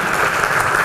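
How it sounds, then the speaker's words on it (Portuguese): A crowd at a Porto Alegre forum workshop claps steadily and fairly loudly for a brief moment, a dense even wash of hands with no pauses. "Salve de palmas para o Raul"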